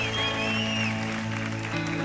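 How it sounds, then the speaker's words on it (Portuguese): A church congregation applauds during a service, clapping under sustained music, with a few sliding whistles rising above the crowd near the start. "Aplauda dando glória a Deus."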